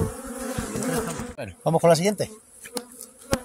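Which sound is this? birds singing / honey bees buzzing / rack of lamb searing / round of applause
honey bees buzzing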